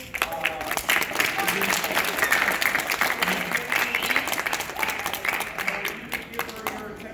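High school seniors at a meeting clap for a guest speaker, a lively crowd applause of many hands with sharp individual claps standing out, steady for several seconds with some talking mixed in.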